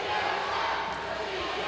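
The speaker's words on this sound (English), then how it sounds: "And the crowd getting behind CJ as Korvin Sage works over CJ Ward" A wrestling crowd at a Mid-South show roars steadily behind CJ Ward, a dense, sustained wash of cheering and shouting with a commentator's voice partly mixed in.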